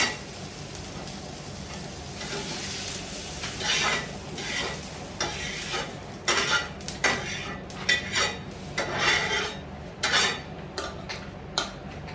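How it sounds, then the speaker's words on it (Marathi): Onion sautéing in oil in a pan, with a utensil repeatedly stirring and scraping against the metal. The clattering strokes come in an uneven rhythm close by, over a low, steady sizzle, with no talking. "कांद्यावर थोडस तेल सोडून मग कांदा परतून घेते"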